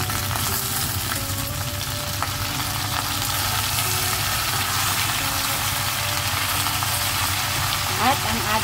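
Mushrooms hit the pan of braising pork legs and sizzle in a steady, continuous hiss that stays close and loud, with a low rumble underneath.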